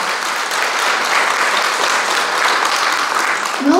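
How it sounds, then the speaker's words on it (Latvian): An audience applauds after a folk dance performance, dense and even clapping heard close and fairly loud, sustained across the whole moment. "Te dara aplausi."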